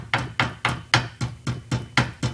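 A bent Traxxas Ultra shock shaft from an RC model is struck with a hammer in a steady series of eight sharp metallic taps, evenly spaced about a quarter second apart, close and fairly loud with no talking.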